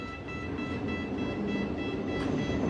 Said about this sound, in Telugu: సో ఇప్పుడు మనం మెట్రోకి వచ్చాము.